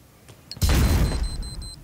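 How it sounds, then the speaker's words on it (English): A small grenade blast in a shooter video game, a single low boom that hits abruptly and rolls into a short rumbling decay, with faint electronic tones lingering behind it. "That was a very shitty nade."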